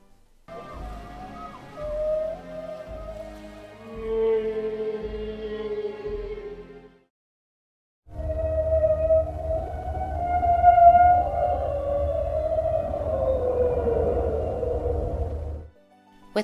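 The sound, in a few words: whale-like singing of a mysterious Pokémon, from a video game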